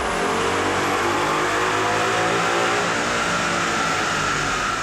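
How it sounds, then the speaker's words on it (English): 2011 Ford Mustang GT with automatic transmission on a dyno, running a 93 octane VMP tune: a sustained, loud V8 engine note climbing steadily through the revs for several seconds, close and without speech. "we re-ran the car with the 93 octane VMP tune uploaded"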